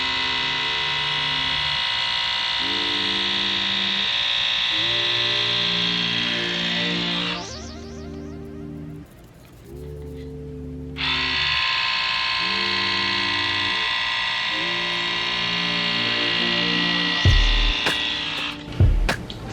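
A split end hair trimmer runs on thick type 4 natural hair, giving a loud, steady electric buzz with a rhythmic pulsing undertone that drops out for a few seconds midway, resumes, and ends with handling clunks.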